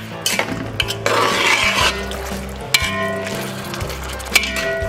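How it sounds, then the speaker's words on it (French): A spoon stirs tomato mushroom sauce in a pot, scraping and clinking against the metal in an irregular rhythm, with sharp knocks and a soft bubbling simmer beneath, close and fairly loud. "Une fois de plus, nous mélangeons encore un peu"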